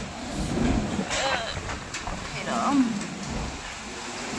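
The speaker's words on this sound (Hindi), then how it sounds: "भाई बहुत तेज आंधी आई हुई है, आंधी के साथ ना हल्की फुल्की बारिश भी है।" Strong wind storm with light rain outdoors, a gusty rushing roar with patter of raindrops, while people talk in the middle.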